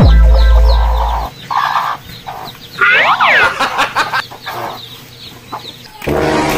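Chickens cluck and squawk in short bursts close by, with a loud low rumble at the start and other farmyard noise mixed in.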